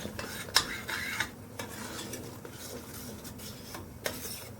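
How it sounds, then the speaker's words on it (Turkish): Spoon stirring thick tomato-paste sauce with mint in a pan, with scraping strokes and a few sharp metal clinks, the first near the start, over a low bubbling simmer, close and without speech. "Ve yine karıştırmaya devam ediyoruz."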